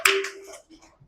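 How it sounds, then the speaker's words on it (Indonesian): Pupils in a primary school classroom give a short burst of hand clapping, loud and close at first and then quickly fading within about half a second, with a faint tail of noise after. "Coba tepuk tangan semuanya."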